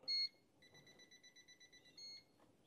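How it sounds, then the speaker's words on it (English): A handheld voltage tester sounds its audible alarm in a quiet room, a long tone followed by a rapid, even series of short electronic beeps and a final longer beep. "And it has those two levels of audible alarm."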